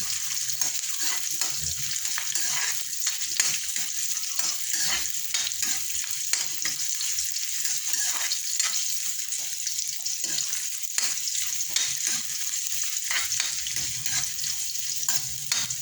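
Ginger sautés in a pan for tinola, giving a steady bright sizzle with frequent stirring scrapes and clicks over a long stretch, with no voices heard.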